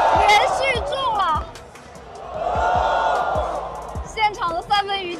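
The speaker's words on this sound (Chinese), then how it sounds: "全场欢呼啊！" Arena crowd at a Stephen Curry fan carnival in China erupts in whoops and cheers over repeated basketball bounces and shots, with an announcer talking excitedly over it.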